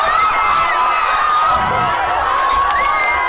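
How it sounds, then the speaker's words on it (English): Spectators cheer loudly after a goal at a boys' varsity high school soccer game on senior night. Shouts and whoops run steadily and densely with no break. "The crowd is going crazy here at senior night."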